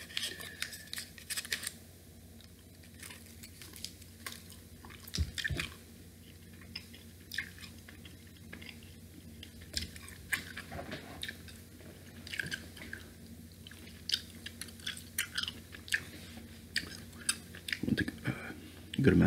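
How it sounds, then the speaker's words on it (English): Fresh chewing gum being chewed close up, a steady run of soft wet clicks and squishes with occasional louder smacks, quiet and alone. "Got some fresh gum, so get to the old gum chewing vids again for a little bit."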